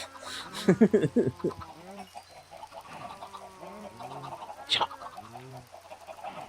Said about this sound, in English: We got chickens everywhere.